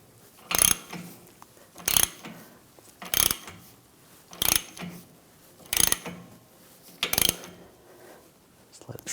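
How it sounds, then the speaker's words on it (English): A front end tool works on a 2009-2013 BMW 328i xDrive to separate the outer tie rod from the steering knuckle. Six or seven sharp, loud mechanical clicks come at a steady interval of about one per second, with quiet between them. "I'm going to use a front end tool to separate the tie rod from the knuckle"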